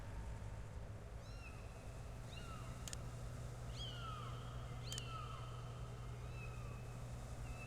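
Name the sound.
kitten meowing in the video game Sam & Max Save the World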